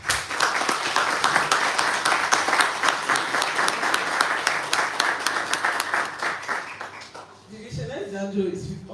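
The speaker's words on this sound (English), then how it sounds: "Please, let's a round of applause," An audience at the national finals of a Cameroon schools debate championship bursts into dense, sustained applause that fills the room for about seven seconds, then fades as a voice resumes speaking.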